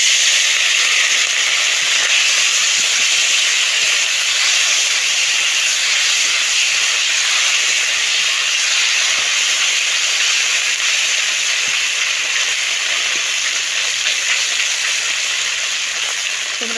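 Small puti fish sizzle in hot oil in a wok: a loud, steady hiss and crackle of frying that holds evenly throughout, with no speech.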